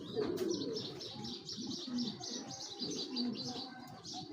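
A large male Hemon pigeon coos in low, repeated throaty rolls nearby, while other birds chirp faintly in the background.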